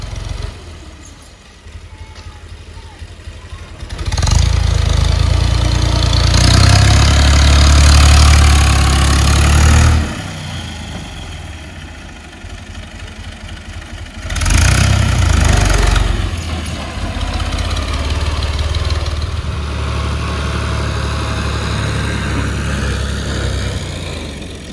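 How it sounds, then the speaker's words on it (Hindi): A tractor engine idles and revs while soil is scooped up and loaded into a trolley at a house construction site, a loud, close diesel rumble that surges twice before settling into a steady chug. "यहाँ से जो है ट्रैक्टर जा रहा है मिट्टी उठाकर"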